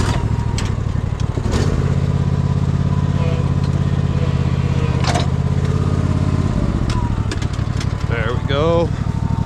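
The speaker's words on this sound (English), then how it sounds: "let's try to just back up with the mower" A lawn mower engine runs steadily nearby while the mower backs up in an overgrown yard, a constant loud drone that dips partway through, with a person talking over it.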